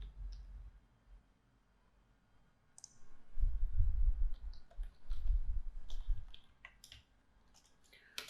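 Sparse, light mouse clicks on a computer running Power BI, scattered singly and in short runs, close and quiet, with no speech.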